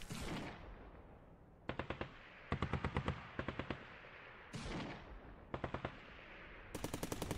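A tank comes under fire in the Arms Trade Tycoon Tanks video game: repeated short bursts of rapid machine-gun shots, crisp and loud, separated by brief lulls and a few heavier booms.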